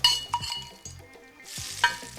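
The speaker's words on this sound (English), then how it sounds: "Oh, that is just the sizzle of joy." Curry leaves sizzling and crackling in hot oil, with a couple of sharp pops and stirring clinks, close and fairly loud.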